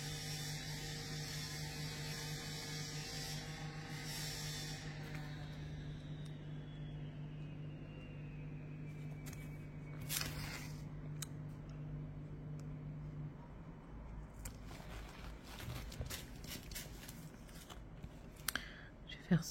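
Building work on a construction site next to a residence, a continuous mechanical drone with ratcheting and clanking bursts, fairly distant, under quiet talk.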